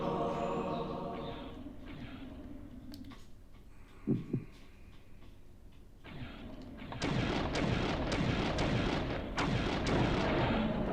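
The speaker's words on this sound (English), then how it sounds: "Explode." Explode spell cast in the PS1 game Blood Omen: Legacy of Kain, a dull low thump followed by a dense rumbling crackle that swells and holds near the end, over game music.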